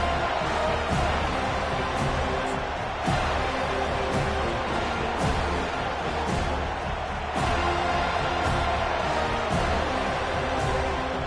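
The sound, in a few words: stadium crowd cheering loudly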